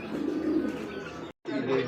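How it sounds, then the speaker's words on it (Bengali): Pigeons at a breeding farm give a run of low, throaty coos that break off for a brief gap and then resume, close and fairly clear. "দেখতে পাচ্ছি এখানে আরও এক পেয়ার কবুতর"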